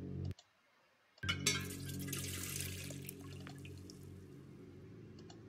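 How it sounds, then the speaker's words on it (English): In the video game The Silent Age, water runs into a fire extinguisher, a rushing pour that starts abruptly after a brief click and silence, then flows steadily and fairly close until the end. "Did you fill the fire extinguisher with water?"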